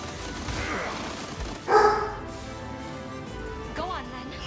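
A puppy barks indoors, a single short yappy burst partway through, heard under someone talking over video game audio.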